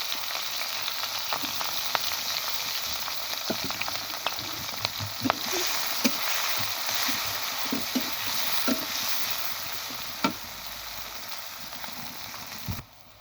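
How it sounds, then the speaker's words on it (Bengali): Chopped onion and green chilli fry in oil in a wok, giving a close, steady crackling sizzle that runs throughout, broken by scattered clicks and taps as the food is stirred. "এই কড়াইয়ের মধ্যেই পেঁয়াজ মরিচ কুচি দিয়ে দিলাম"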